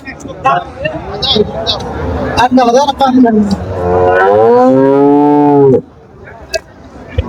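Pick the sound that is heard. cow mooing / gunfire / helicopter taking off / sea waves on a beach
cow mooing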